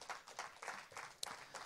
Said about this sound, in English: let's clap our hands and praise God for that